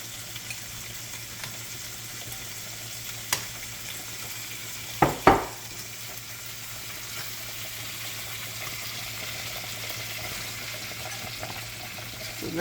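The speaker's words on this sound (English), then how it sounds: "So let's allow them to fry on one side." Shrimp frying in butter in a pan give a steady, close sizzling hiss throughout, with a couple of brief clicks or taps of the pan near the middle.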